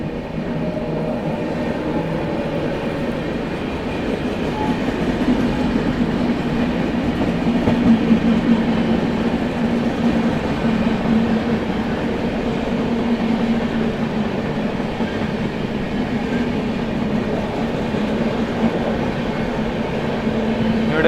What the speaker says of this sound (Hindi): न्यू दिल्ली गया महाबोधि एक्सप्रेस आ रही है।